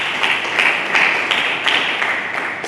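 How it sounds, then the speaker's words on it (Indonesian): A church congregation applauding to welcome the sermon: loud, fairly rhythmic group clapping with steady, evenly spaced beats, no speech over it. "Mari kita berikan tepuk tangan menyambut firman Tuhan."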